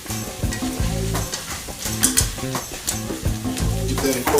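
Butter melting and sizzling in a hot pan of sweet corn as it's stirred, a steady frying hiss with intermittent scraping and stirring clatter, close and fairly loud throughout.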